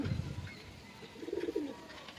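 A black male pigeon in a home loft coos nearby in soft, low, throaty bursts. One burst comes at the start and another follows a second later, over faint background noise.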